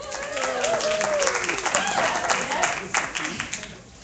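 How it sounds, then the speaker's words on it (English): An audience at a New York women in film and television event claps for itself, a dense, steady burst of applause with some voices and cheers mixed in, tapering slightly toward the end. "you get to clap yourselves"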